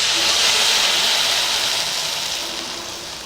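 Tamarind water poured into a hot okra curry (vendaikai puli kuzhambu), a loud broad steamy hiss that fades gradually, close and with no voices.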